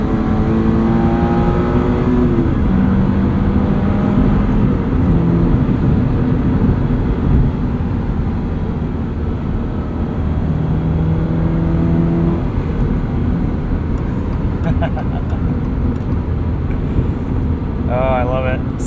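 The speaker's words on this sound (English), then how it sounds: "One more entrance ramp into second." A 2022 Subaru BRZ on Bridgestone Potenza RE-71RS tyres accelerates up an entrance ramp in second gear, its engine rising in pitch through steady revving with road and cabin noise throughout.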